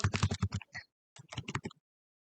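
Computer keyboard typing during a Chrome screenshot command entry, two quick bursts of close, crisp key clicks separated by a brief pause, loud and alone with no speech.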